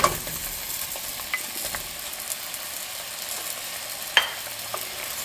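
Leeks and potatoes sizzling in warm butter, a steady close hiss broken by a few stirring scrapes and a sharp clink, with no voices.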